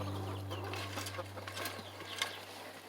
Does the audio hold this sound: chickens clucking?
yes